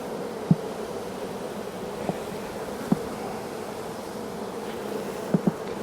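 Honey bees buzz steadily around an opened brood-chamber hive during a hive rescue, a continuous close drone with a few brief louder fly-bys passing near.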